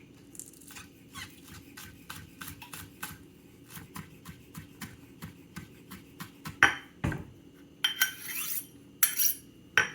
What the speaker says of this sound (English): Now these ones I'm gonna cut super thin for garnish.